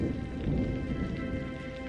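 Steady heavy rain hisses down in a thunderstorm, with a low rolling rumble of thunder beneath the continuous patter.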